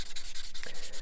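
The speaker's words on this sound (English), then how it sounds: "So I'll give that a sand with this squishy soft one, just to smooth off any little gouges." A soft, squishy sanding sponge rubs quickly back and forth over a plastic part of a Space: 1999 Eagle Transporter model, making rapid rhythmic scratchy strokes close by.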